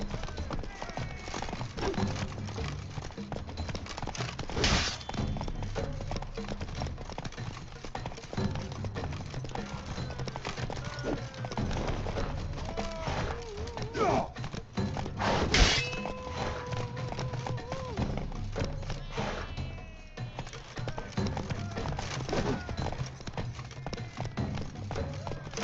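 Horse combat in The Witcher 3: Blood and Wine, with steady hoofbeats and horse sounds throughout, sharp impact hits near 5 and 15 seconds, and voices in the game mix.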